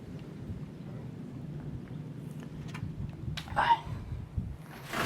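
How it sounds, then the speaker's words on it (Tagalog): Heavy monsoon rain during flooding with thunder, a steady low hiss and patter of rain broken by a few distant rumbles and cracks of thunder. "Nawala na yung bagyo pero yung habagat tuloy-tuloy pa rin yung lakas ng ng pagulan."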